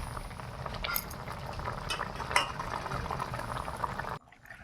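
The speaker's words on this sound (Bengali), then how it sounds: "তরকারিটা ফুটে যেতে মাছগুলো দিয়ে দিলাম।" A fish curry bubbling in a pot, a steady close boil with faint utensil clinks, ending abruptly.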